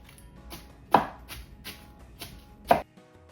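A big knife chops iceberg lettuce on a board in a series of crisp, close chops at an uneven pace; two of the strokes land much harder than the others.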